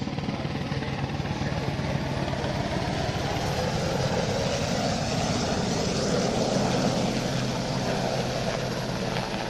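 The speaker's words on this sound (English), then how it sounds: "if you notice as the aircraft banks over towards you, one of the rotor blades, the top bits, painted yellow" A helicopter banks overhead, its rotor and engine a steady, loud broadband roar with a low throb that holds for the whole stretch and never fades.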